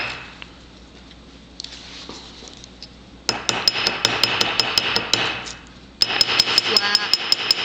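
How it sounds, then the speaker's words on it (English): A hammer strikes a metal rivet head in quick, evenly spaced sharp taps, close and ringing, first softer and then in two louder bursts, with a voice briefly speaking in between. "Just hitting that rivet head."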